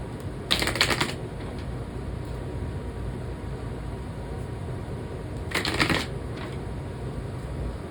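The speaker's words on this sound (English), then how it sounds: "One more shuffle because I messed up the cards." Two brisk bursts of tarot cards being shuffled, a riffle near the start and another about five seconds later, over a steady low background hiss.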